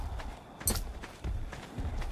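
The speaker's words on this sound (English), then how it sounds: "some ugly looking horse" Hoofbeats of a horse-like creature in the video game Ark Survival: Scorched Earth, a few uneven thudding clip-clop steps close by, with one sharper hit partway through.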